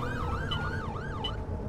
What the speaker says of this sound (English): Police car and an ambulance going past.